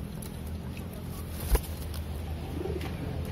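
Domestic pigeon cooing in courtship, soft low coos with a faint rising call near the end, heard amid background noise and a brief knock.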